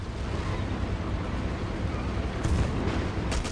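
An artillery shell explodes in Battlefield 1942 on a Bulge map: a soft, distant burst and a second short crack rise briefly over a steady low rumble of battlefield noise.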